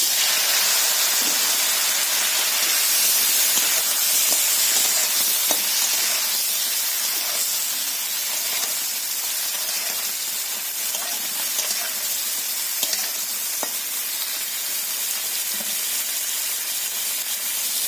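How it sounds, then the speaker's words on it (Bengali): Ridge gourd pieces fry in a wok of hot oil left over from frying fish, giving a steady, loud sizzling hiss with occasional sharp crackles throughout, close by and with no talking. "তো ওই তেলের মধ্যে ঝিঙেগুলো আমি ভেজে নেব বলে"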